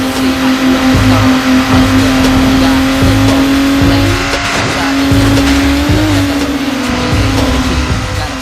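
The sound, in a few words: racing cars in video game Need for Speed Underground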